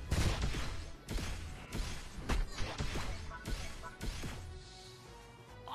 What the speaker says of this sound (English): Flash cannon.